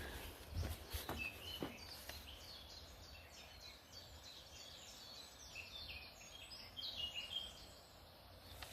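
Faint birdsong drifts through the quiet Little Neet Valley countryside, with scattered distant chirps and short phrases over a low outdoor hush.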